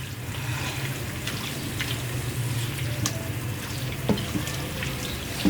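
Boneless chicken pieces cook in a pan with a little oil and added water, giving a steady sizzling and bubbling with occasional soft pops and clinks, no talking over it.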